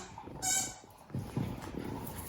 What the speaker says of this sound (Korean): 자기가 삑삑거리는 거야. 삑삑이 장난감이